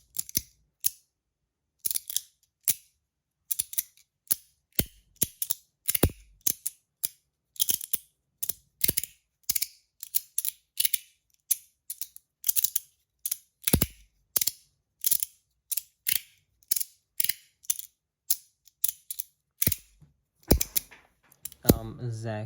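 A Modusworks Half Skelly Half Spiral bronze fidget toy clicks sharply and loudly in rapid irregular bursts of crisp metallic snaps, close by, with brief pauses between clusters.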